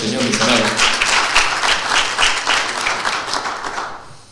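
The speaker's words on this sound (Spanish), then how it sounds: "Démosle un fuerte aplauso al Señor, mis amados." Church congregation applauding, a dense, steady wash of clapping at close range with voices mixed in, tapering off toward the end.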